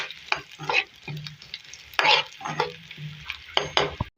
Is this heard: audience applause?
no